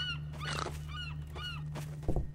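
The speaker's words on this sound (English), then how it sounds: "There's definitely a seagull somewhere." A few harmonic, honking seagull calls in a video game repeat in quick succession over a steady low hum, ending with a soft thump.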